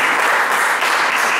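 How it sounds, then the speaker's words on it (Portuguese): A church congregation applauds during an evening worship service, a steady, dense wash of clapping that stays loud and even from start to finish with no voices on top. "Vamos aplaudir a palavra do Senhor."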